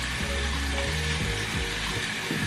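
Food sizzles and fries steadily in a pan before any butter goes in, a continuous close crackle with a low rumbling undertone and no talking.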